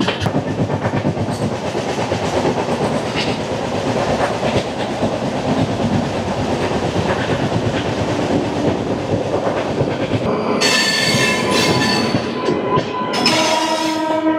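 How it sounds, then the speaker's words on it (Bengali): The Gorakhpur–Sambalpur Express rolls past close by with a loud, continuous rumble and rhythmic clatter of wheels over rail joints, and a horn blares near the end. "গোরখপুর থেকে সম্বলপুর এক্সপ্রেস, ট্রেন নাম্বার 150-27।"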